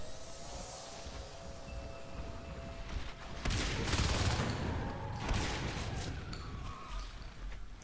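Shotgun fire in the video game Natural Selection 2, a burst of sharp blasts and crackling impacts mid-clip over a constant background game roar.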